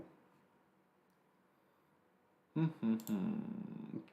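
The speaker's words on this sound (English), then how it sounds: "Cat." A cat purrs with a low, rhythmic rumble, close and soft at first, then swelling louder and rougher in the last second and a half of the clip.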